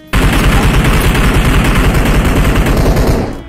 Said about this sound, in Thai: เขาไม่ยิงสวนเลยเขายิงกันเอง